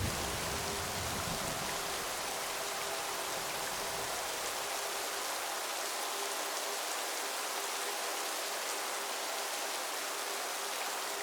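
Heavy rain falls in a Himalayan valley as a constant, even hiss of drops close by, with a low rumble early on that fades, leaving only steady rain.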